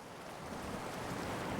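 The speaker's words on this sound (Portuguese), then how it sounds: "O vento sopra rio acima e isso acaba gerando essas ondas de" Wind-driven river waves nearly a metre high, pushed upstream by the wind, make a broad, steady wash with wind noise across the microphone, moderately loud and without voices.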